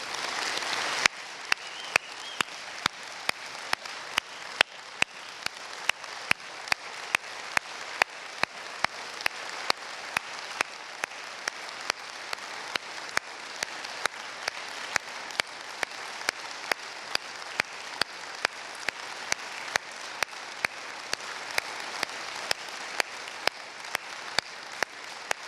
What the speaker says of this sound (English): How about we give an applause for Doc and for his life?